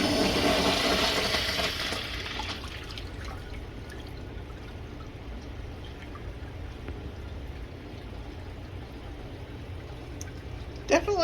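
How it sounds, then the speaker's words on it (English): A third-generation Kohler Branham stall urinal flushes with a loud rush of water that fades over a couple of seconds into a quieter trickle and drip. A brief clatter comes near the end. "We'll watch this one flush."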